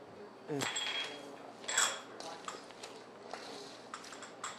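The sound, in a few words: mixing coleslaw with caraway and sugar in a bowl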